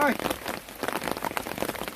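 Steady rain pours over an open rural field where fish traps are set, a dense even patter with scattered louder drops throughout, and a voice speaks faintly under the downpour.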